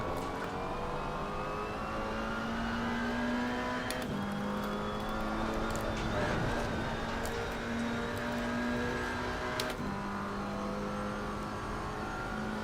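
A McLaren 570S race car engine at Paul Ricard in Assetto Corsa Competizione drones steadily at high revs from the cockpit, with two clean gear shifts dropping the pitch along a long straight.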